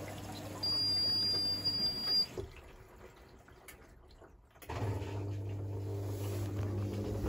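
A Hotpoint Ultima WT960 washing machine draining water: a low pump hum with trickling and dripping, which drops away for about two seconds and then resumes, fairly quiet and close.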